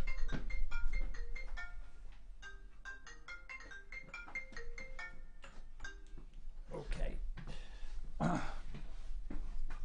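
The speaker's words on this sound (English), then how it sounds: "my phone is ringing like crazy" A phone ringtone plays a repeating electronic melody of bright, evenly spaced tones, ringing continuously and fairly loud close by before breaking into a busier, noisier burst near the end.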